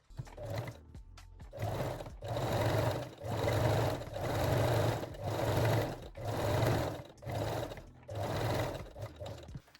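A sewing machine stitches binding along the top edge of a lingerie bralette in repeated bursts of steady motor hum, each run lasting about a second, close and fairly loud with short pauses between.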